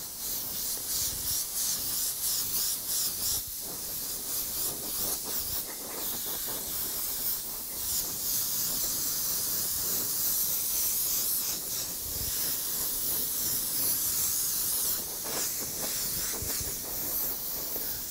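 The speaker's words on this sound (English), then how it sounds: "So let's get the booth going and I'll keep on spraying this." Steady hiss of a spray gun painting a model laser blaster at close range, running continuously with small fluctuations in pressure and no voices.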